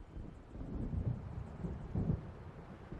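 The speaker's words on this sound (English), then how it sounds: "It seems there's a storm coming." Low rolling thunder of a storm approaching in the video game Alan Wake, a dull continuous rumble with swells near one and two seconds, heard alone without voices.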